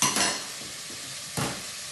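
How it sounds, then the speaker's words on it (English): Vegetables being stirred in a pot on high heat for spiced pumpkin soup: onions, celery and carrots scraped and tossed with a spoon, two louder bursts of stirring over a steady soft sizzle, close and alone. "Give it a bit of stir."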